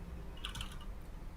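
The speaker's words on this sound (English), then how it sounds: "This is a DOS keyboard. This is old school like premium mechanical keyboard." An old mechanical DOS keyboard with brown switches, a brief flurry of four or five quick keystrokes, faint against a steady room hum.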